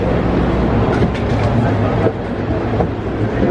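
Ride inside an Amtrak Hiawatha coach between Milwaukee and Chicago, a loud continuous low rumble with faint rail clicks and rattles and a brief dip partway through.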